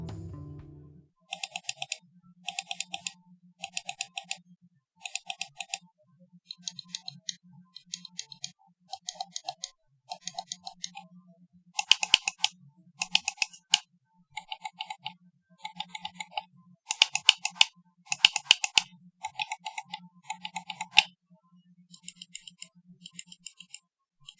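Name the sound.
computer mouse button clicks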